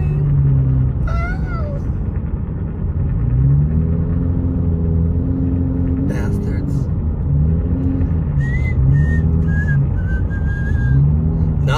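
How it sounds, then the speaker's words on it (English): A car with tire chains speeds along a snowy road near Big Bear Lake, a loud continuous rumble and rattling whine up close, while a person talks over it throughout. "The guy is speeding with his chains on."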